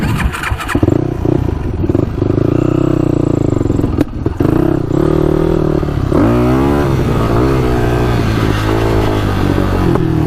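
A Yamaha YFZ450 quad engine runs loud and close with a rough, uneven idle and brief revs, then cuts out and stutters, the engine stalling as it repeatedly shuts off.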